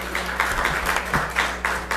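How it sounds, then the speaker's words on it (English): Scattered clapping from an audience at a school district board meeting, a modest round of applause in a room with a steady low electrical hum beneath it. "we can give a round of applause"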